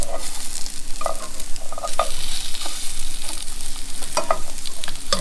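A Thai fish cake with basil and long beans sizzles in a non-stick pan, steady frying crackle with a few scraping stirs and a pan clink as it is turned, close and continuous.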